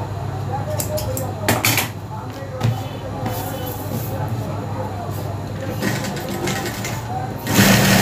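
A sewing machine stitching a blouse hums and whirs steadily at close range, with a few clicks and knocks, while a person talks over it.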